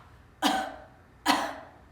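Two sharp coughs, close and fairly loud, spaced under a second apart, each trailing off quickly into a quiet room.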